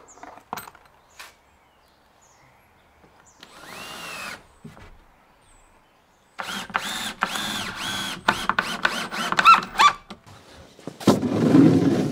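Power driver screwing 3x2 timbers together for a stud wall frame, with short bursts of whirring and pulsing ratchety driving, quiet gaps between, and one louder final burst.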